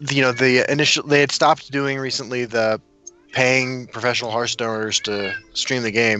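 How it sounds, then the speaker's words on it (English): A cat meows intermittently in the background, mixed under steady conversational talk from a podcast host. "I'm sorry about the cat."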